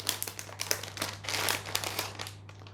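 Crinkly wrapping around a tourteau fromager, a blackened-top goat-cheese cake, crackles and rustles continuously as it is pulled further open, close and moderately loud with a steady low hum underneath.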